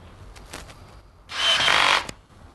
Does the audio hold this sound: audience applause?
no